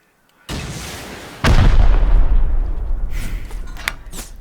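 In the video game Rust, rockets strike metal window bars: a sudden loud blast followed moments later by a heavier booming explosion that rumbles and fades, with faint crackling afterward.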